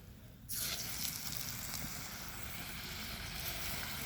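Kanmushri pitha, Bangladeshi rice cakes, fry in hot oil. A steady, bright sizzle starts abruptly after a quieter moment and keeps hissing evenly, with no voices.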